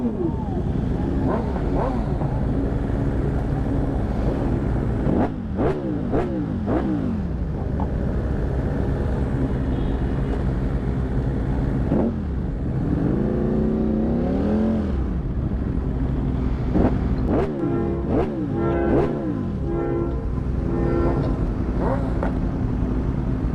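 A Ducati Streetfighter V4 Racing Evo with a Ducati tune drones loudly and continuously while riding, its engine pitch rising and falling with repeated revving surges and gear changes, close to the listener.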